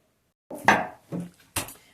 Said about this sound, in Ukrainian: Нарізаю такими шматками десь по півтора сантиметра.